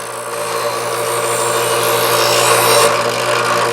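A Chef's Choice Trizor Edge XV electric knife sharpener hones a kitchen knife with light pressure, giving a loud, steady motor hum layered with a continuous abrasive whir of the blade against the wheels.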